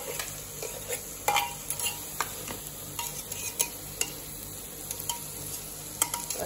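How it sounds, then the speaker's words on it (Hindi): Masala for veg kheema frying in a pan, a steady soft sizzle broken by irregular scraping and clinking stirs of a utensil against the metal, close and fairly quiet. "1 मिनट बस मसाले को अपन थोड़ा मिक्स हो जाए तब तक कर लेते हैं।"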